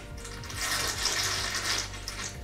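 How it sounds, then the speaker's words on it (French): An Aquaillumination Nero 3 aquarium pump running at full power gives a steady, watery rushing hiss that rises slightly and holds, close and alone. "c'est la pompe qui se met en route à pleine puissance pour pouvoir la repérer facilement"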